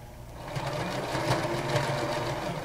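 A sewing machine runs a seam on a reversible fabric headband, a close, continuous whirring hum with a fast stitching rhythm throughout.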